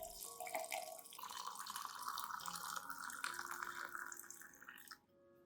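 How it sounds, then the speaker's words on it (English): About 500 milliliters of hot water poured into a cup holding onion skins, a steady close trickling pour with rising pitch as the cup fills, ending abruptly. "Pour 500 milliliters of hot water into the cup containing the onion skins."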